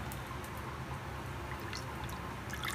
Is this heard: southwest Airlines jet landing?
no